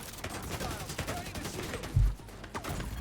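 Rapid gunfire in the Division 2 video game, a dense rattle of shots in the background with one heavier thump partway through, under talk.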